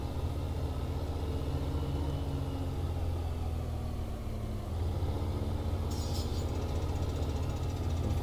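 A farm tractor's engine runs steadily at idle with a deep, continuous rumble, close and loud. A brief higher hiss cuts in near the end.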